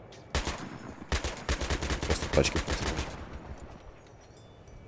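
Gunfire in the video game Battlefield 3: a burst of rapid automatic shots and bangs lasting a couple of seconds, fairly loud, then fading, with a voice talking briefly.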